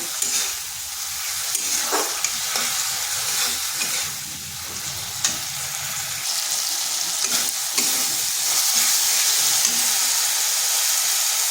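Washed red lentils sautéed with spices in a pan, a continuous close sizzle and frying hiss with occasional stirring scrapes, steady throughout with no talk.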